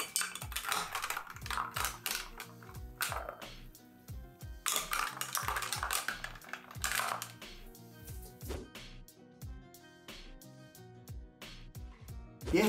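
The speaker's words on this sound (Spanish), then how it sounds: "Removemos para mezclar y dar mejor temperatura." Fernet cocktails topped with ginger beer or soda being stirred over ice, a long run of quick, close clicking and rattling as ice cubes knock against the glass, uneven in pace with brief pauses.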